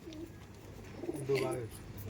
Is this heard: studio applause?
no